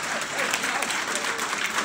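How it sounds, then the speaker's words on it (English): Applause from a breakfast audience promoting the IHHA conference, a dense steady wash of clapping hands filling the room throughout, with faint crowd murmur beneath. "Let's give a big round of applause."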